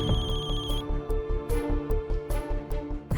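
A mobile phone ringtone plays as a bright, rhythmic electronic tune with a steady beat, loud and close, with no one talking.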